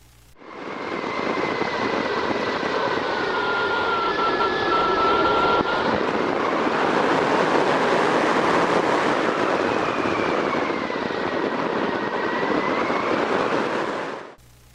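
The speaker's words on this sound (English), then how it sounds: "if you listen to the wind, you can hear the glider slow down" Steady rushing wind roars loudly and evenly for several seconds during a hang glider flight as the glider slows in a stall, with a faint whining tone that rises and falls, before dropping away abruptly.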